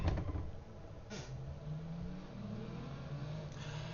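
A Ferrari Dino 246 GT engine in a racing simulator hums at a mid pitch, revving and easing in waves before settling to a steady drone, heard alone and fairly quiet.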